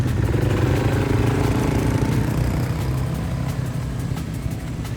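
An off-road vehicle bashing through desert dunes in Dubai, its engine a loud, rough, throbbing drone close by that eases slightly toward the end.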